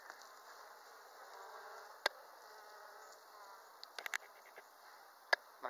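Quiet, steady hum of honeybees around an open hive frame packed with honey, heard during a beehive inspection, with a few brief clicks and knocks of handling.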